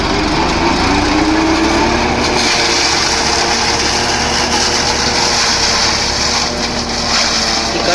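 A tractor engine runs steadily on a farm during cotton cutting before wheat sowing, a loud continuous drone with a high-pitched whine held close throughout.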